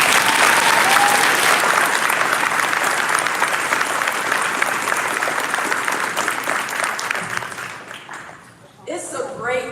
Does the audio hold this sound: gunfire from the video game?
no